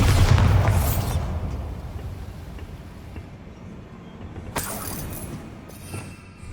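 A Bombarda explosion spell in Hogwarts Legacy, a loud, deep boom at the start that trails off into a rumbling decay, followed by a smaller burst later on, with no talk.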